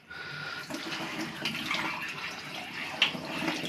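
Warm tap water runs steadily while a Bosch washing machine filter is rinsed, a continuous splashing hiss from start to finish with a brief louder splash near the end.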